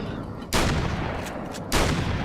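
Gunfire in Alan Wake's American Nightmare, two sharp loud bursts about a second apart, each trailing into a noisy wash of echo and ambient game sound.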